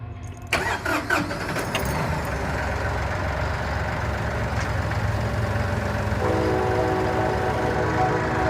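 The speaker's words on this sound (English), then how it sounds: "now I'll start the tractor up and pick this up" A Ford tractor engine cranks and catches after about half a second with a loud burst, then settles into a steady, close, rumbling idle that continues to the end.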